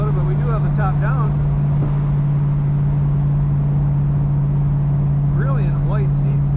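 A 1973 Ford Mustang convertible cruises with its top down on a breezy, cool Minnesota day, a steady engine and road drone running throughout beneath someone talking.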